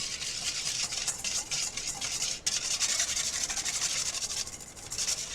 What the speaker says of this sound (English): And we're going to whisk that together.